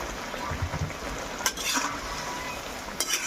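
A spoon stirring achar pickle made with green chilies and tamarind in a pan, with soft intermittent scraping and quiet sizzling, plus a couple of brief clinks, close and fairly faint.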